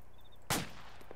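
Single M16A4 rifle shot fired in ARMA 2, a sharp loud crack followed by a short decaying tail, alone with no talk.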